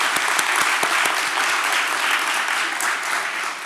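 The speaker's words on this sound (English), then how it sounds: "Let's give them both another round of applause." Audience at a City of Atlanta business event giving a round of applause, dense sustained clapping with crisp individual claps, loud at first and tapering slightly toward the end.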